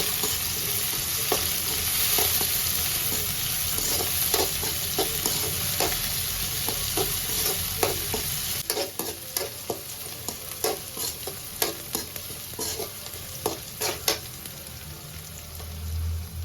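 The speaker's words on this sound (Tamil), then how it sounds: "இப்போ இந்த வெங்காயத்தை வந்து நல்லா வதக்கிக்கலாம்" Onions sautéing in a pan for dry fish curry (karuvadu kuzhambu), with a constant close sizzle and a run of quick rhythmic spatula scrapes and taps in the second half.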